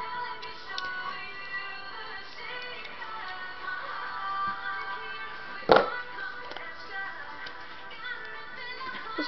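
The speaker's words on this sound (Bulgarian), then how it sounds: "Поставяме двете SIM карти." A single sharp click of SIM cards being inserted into a phone rises once from a steady musical background, brief and close, with nothing else standing out.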